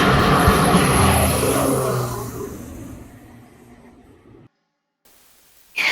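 Used as an intro effect, an airplane engine roars loudly while taking off and then fades steadily into the distance, dropping to brief silence before a sudden short burst of sound at the end.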